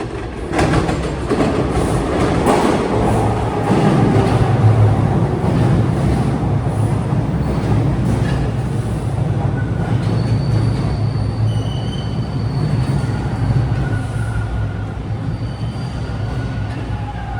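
Toronto Transit Commission Line 2 subway train heard from the cab on the Kennedy-Kipling run, a loud continuous rumble of wheels on track with high squealing tones and faint rhythmic clatter throughout.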